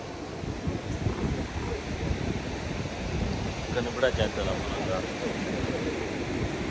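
Surf washing ashore at Morjim Beach in Goa, with steady wind buffeting the microphone, a continuous broad roar that swells slightly midway with no clear break between waves.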